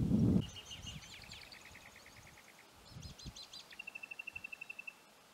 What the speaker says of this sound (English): Lots of bird life around here.